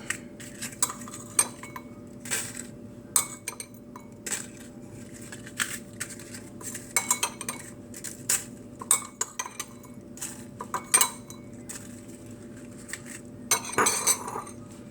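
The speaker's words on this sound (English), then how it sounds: "we're gonna add some granola, about a spoonful of granola on the bottom of our cup" A spoon scoops granola into a paper baking cup, giving light scattered clinks and crunchy taps spread over several seconds. The sounds are quiet and close, with no talking.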